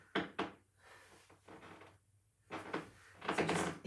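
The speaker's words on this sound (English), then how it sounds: "I've got a very squeaky floor in this part." A squeaky floor creaks and knocks under slow Pilates exercise movements. Several separate woody groans and thuds come in uneven bursts with quiet gaps between them, close by and moderately loud.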